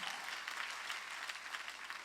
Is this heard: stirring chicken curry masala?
no